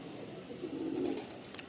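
A Madrasi pigeon gives a short, soft cooing call, close by over a low hum of background noise.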